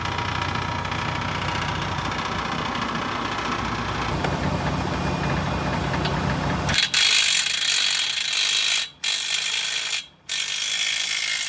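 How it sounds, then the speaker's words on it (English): Impact wrench running lug nuts onto new 295/75R22.5 truck tires on a drop axle, loud continuous whirring and rattling hammering, shifting in tone partway through, with two brief pauses near the end. "Putting all the lug nuts on the new tires"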